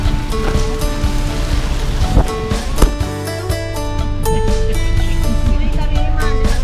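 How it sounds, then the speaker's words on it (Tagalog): Very heavy rain pours down in Camarines Sur, Bicol, a dense steady roar with broadband hiss throughout, growing slightly louder toward the end, while people talk nearby over it. "Napakalakas ng ulan, no?"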